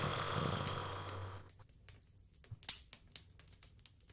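A sleeping demon in a fairy tale snores heavily with a low, rumbling drone for about a second and a half, followed by scattered soft clicks and taps in a quiet room.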